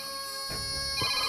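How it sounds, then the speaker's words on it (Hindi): A telephone rings in a Hindi film scene, a quiet electronic ringtone with two short rising bursts over a steady tonal background hum, with no talk. "ये माँ का ही फोन है।"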